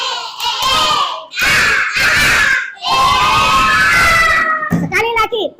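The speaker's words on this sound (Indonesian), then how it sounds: "ayo melakukan tepuk semangat. 1, 2, 3. Tepuk semangat." Classroom of schoolchildren shouting a rhythmic 'tepuk semangat' clapping chant in bursts, loud and close, led by a teacher's voice, with claps punctuating the end.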